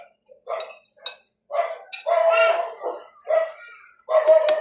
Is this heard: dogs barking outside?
yes